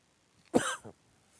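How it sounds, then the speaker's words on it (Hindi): A single close, sharp cough from a teacher with a cold, one harsh burst with a short trailing second rasp, loud against a quiet room. "खांसी बार बार निकल जा रहा है"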